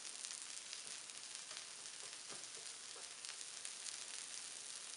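An arepa with butter and cheese sizzling on a griddle, a faint steady hiss of frying with a few soft pops, continuous and quiet.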